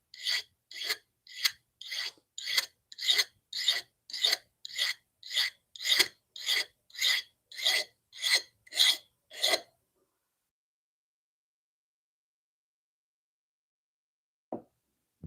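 A metal file rasps over a blade edge in about fifteen quick, evenly spaced strokes, close and crisp, then stops, leaving near silence and one faint knock near the end.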